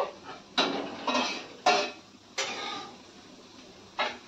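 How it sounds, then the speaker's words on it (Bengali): Soybeans being fried and stirred in a pan: a handful of sharp, separate scrapes and clinks of a utensil against the metal pan, spaced irregularly over a few seconds, close and clear with no talk. "দেখো আমি সোয়াবিন গুলা কি সুন্দর লাল করে ভেজে নিচ্ছি"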